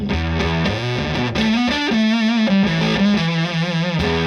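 Dunlop Jimi Hendrix Fuzz Face pedal on electric guitar, gritty saturated fuzz with sustained lead notes and a few quick slides, loud and continuous without any speech.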